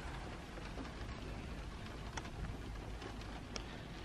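Rain heard from inside a parked car makes a steady, faint hiss with a few sharper drops tapping here and there.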